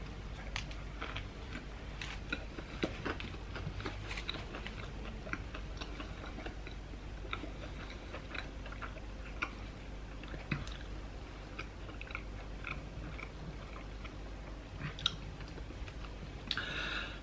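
A KFC Double Tender burger with lettuce and mayo is chewed close to the microphone, soft repetitive squishy munching and small clicks continuing steadily and quietly with no talking.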